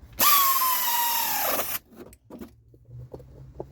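A power tool whirs loudly for about a second and a half while tightening brake caliper bolts on a 2006 Ford Ranger. The whine winds down, followed by scattered clicks and clunks of handling nearby.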